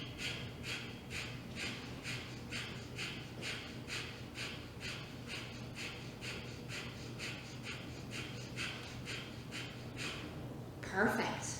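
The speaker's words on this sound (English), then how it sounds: "Take a big deep breath in, and quick exhales." Breath of fire yoga breathing in a youth yoga session, a long even series of quick forceful exhales through the nose, about two per second, close and steady, ending with a louder breath.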